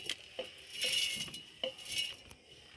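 Dry whole spices for homemade Maggi masala pour into a mixing bowl, rattling and clinking in a few quick bursts, close and clear with no voices.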